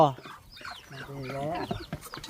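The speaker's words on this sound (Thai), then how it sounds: "ป้อเป็ดไก่ของน้องบุญมาหลายเด้พี่น้องเอ้ย" Chickens and ducks cluck and squawk in short bursts under a nearby person's talking, close and fairly loud.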